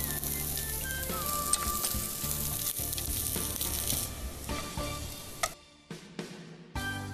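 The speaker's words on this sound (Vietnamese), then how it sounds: "Dầu đã nóng, mình cho sả vào trước." Lemongrass and garlic sizzle loudly in hot oil for sa te, a dense continuous frying crackle with stirring clatter, fading into a few separate scrapes near the end.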